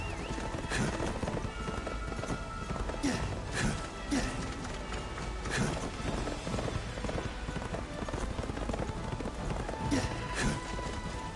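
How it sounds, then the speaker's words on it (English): A horse gallops in a video game, its hooves clip-clopping in a fast, steady rhythm. Occasional sharp impacts and a whinny cut through, with a faint background drone. "just trying to make the horse dash"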